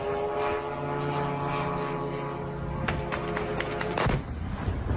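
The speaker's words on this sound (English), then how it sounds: "This is a Ukrainian plane drone." A Ukrainian fixed-wing plane-style drone flies toward a Russian skyscraper, its steady propeller drone humming continuously before a sharp burst of impact bangs near the end.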